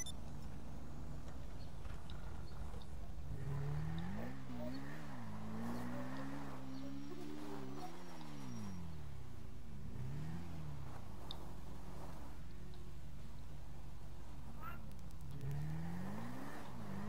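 Engine of a motorcycle in a video game labouring up a small ramp, a loud buzzing drone that rises and falls in pitch over and over as it revs, climbs and drops back, continuous and close.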